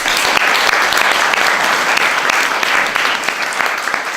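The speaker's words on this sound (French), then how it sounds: "que je vous demande d'applaudir." A live audience claps for a guest being introduced on a TV5 Monde talk program: a loud, dense, continuous round of applause from many hands, steady throughout with no talk over it.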